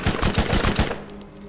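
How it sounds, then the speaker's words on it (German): A short, loud burst of rapid automatic gunfire in the video game Borderlands, about five or six evenly spaced close shots, then a quieter tail as it stops. "Genau, ich schieße gerade auf dich."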